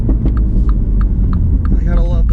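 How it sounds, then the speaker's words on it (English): Exhaust pops and burbles from the tailpipe of a 2019 MINI JCW Knights Edition, a series of short crackles over a steady low engine rumble, with a voice talking over part of it. "Gotta love those pops and burbles out of the tailpipe"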